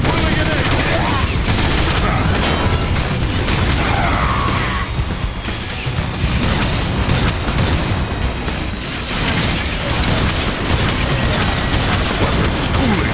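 Grenade blasts and weapon fire from the Transformers War for Cybertron video game: dense, loud bursts of gunfire, booms and crashing impacts in sustained chaotic combat, with a soundtrack and game voices underneath.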